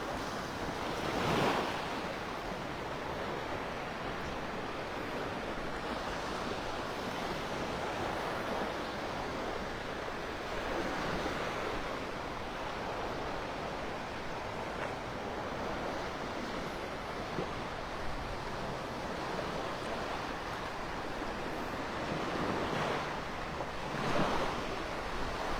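Surf washing onto the beach at Wiggins Pass, Naples, Florida, a steady wash of waves with occasional stronger breaks, mixed with gusty wind buffeting the microphone.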